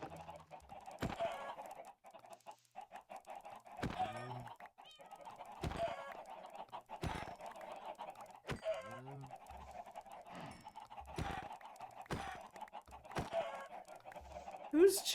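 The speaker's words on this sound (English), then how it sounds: "Whose chickens even are these?" Chickens clucking in Minecraft, a run of short clucks and squawks repeating across the stretch over a steady background hum, with a voice faintly present beneath.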